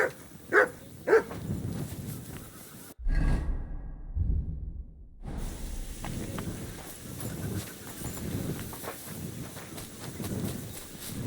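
A dog in the video game Kingdom Come Deliverance II gives a few sharp barks near the start, then the scene carries on with whooshing movement and hoof-like steps.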